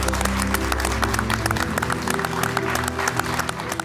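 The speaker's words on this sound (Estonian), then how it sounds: "Palju õnne veel kord, teeme suure aplausi." Enthusiastic crowd applause at a junior pastry chef and baker championship, dense continuous clapping from an audience, filling the whole stretch loudly.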